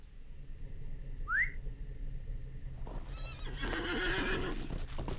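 Horse in a video game, a sharp rising whinny near the start, then a busy stretch of clip-clopping hooves and brighter whistling tones, moderately loud with no talk.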